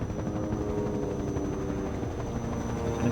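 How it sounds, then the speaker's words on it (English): Video game helicopter hovering nearby, a steady rhythmic rotor thump with a faint high whine, moderately quiet and unbroken, with no talking. "Helicopter lines up to take his final shot."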